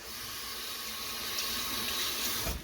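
A makeup brush rinsed under a running tap at a sink. The water pours in a soft, steady stream with no break.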